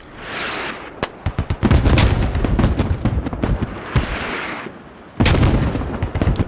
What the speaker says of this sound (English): Grenades thrown.